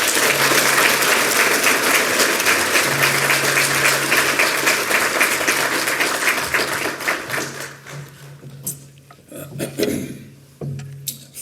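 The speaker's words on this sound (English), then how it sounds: "Please give me a round of applause, Danica." Loud, dense applause fills a hall at an educators' awards night for a staff member, holding steady for several seconds before thinning into scattered claps and faint voices.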